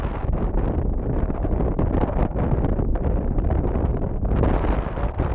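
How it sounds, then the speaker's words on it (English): Strong wind roaring against the microphone on Cape Cod near cranberry fields, a continuous low rumble with gusts swelling and easing, no talking. "Just a little bit windy"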